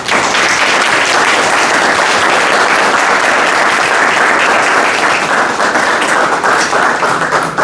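Loud, dense applause from a Toastmasters meeting audience honoring Toastmaster Keshav, a continuous wash of many hands clapping at once, sustained without talk.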